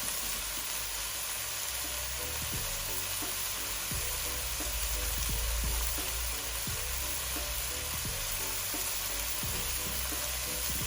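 Vegetables for prawn fried rice sauté in a hot pan with a steady, close sizzle. Occasional soft knocks of stirring break through, and no one talks.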